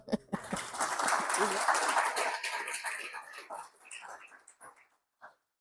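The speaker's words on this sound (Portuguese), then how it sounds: "uma salva de palmas para" Audience at a live Portuguese talk on associations breaks into applause, a dense burst of clapping that swells quickly, holds for a couple of seconds, then thins out into scattered claps and fades.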